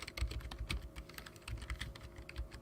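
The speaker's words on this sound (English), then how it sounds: "Who's typing? Is that you typing?" Rapid clattering keystrokes on a computer keyboard, close and fairly quiet, in an uneven steady stream of clicks with no talk over them.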